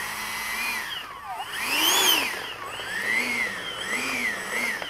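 A Freewing A-10 Thunderbolt II RC jet taxis on a street, its electric ducted-fan motors whining up and down in repeated throttle swells, near and fairly loud with no talking.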